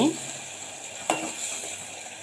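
Tomato being stirred in a frying pan, a soft scrape and faint sizzle under steady kitchen background noise, with one brief clink partway through.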